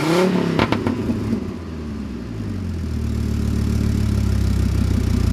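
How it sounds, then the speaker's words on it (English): A 2006-2012 Chevy Colorado with an axle dump exhaust revs once sharply, then settles into a low, throaty idle that rumbles steadily up close. "Give it a rev."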